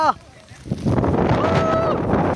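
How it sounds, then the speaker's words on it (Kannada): Steady, broadband wind roars loudly across the microphone on a foggy hilltop at Kundadri Hills after a brief quieter opening, with a faint tonal whine near the end. "ಎಂಥ ಗಾಳಿ ಗುರು."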